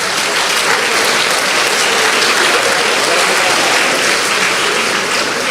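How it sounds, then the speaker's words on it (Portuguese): Sustained applause from a church congregation for the young people and teenagers standing up during a sermon, a dense, steady wash of clapping throughout, close and loud. "Vamos dar um aplauso para essa garotada."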